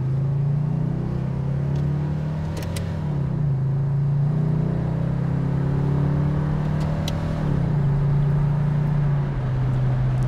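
A 1983 Oldsmobile Cutlass Calais Hurst V8 pulls away from a green light, its engine rumbling up steadily through the gears, with clear dips at each shift and the tone climbing again after each one, heard from inside the car.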